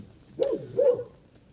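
Two quick barks from dogs at a private home, a little distant and moderate in volume, with no one talking over them.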